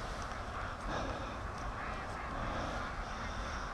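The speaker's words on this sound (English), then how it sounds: "The ducks are going nuts behind me." A flock of free-range ducks by a creek and lake keep up a dense, continuous chorus of quacking, heard at a middle distance against a steady wash of outdoor noise.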